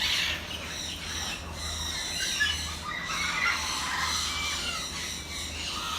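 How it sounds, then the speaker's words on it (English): Macaws squawking inside an aviary cage at a bird park, harsh raspy screeches repeating in overlapping bursts at moderate distance against a faint steady hum, with no talking. "These are macaws."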